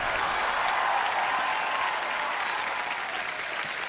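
A studio audience at a comedy talk show breaks into loud, steady applause welcoming superstar Diljit Dosanjh, a dense wash of clapping that holds evenly without pause.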